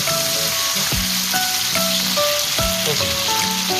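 Steaks sizzle in a hot frying pan, a loud continuous crackling hiss with repeated sharper pops and spatters, no voices.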